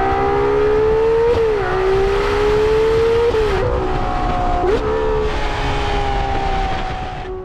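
A Ferrari Daytona SP3 engine under way, droning loudly and steadily, with its pitch climbing and then dropping sharply at several quick gear changes.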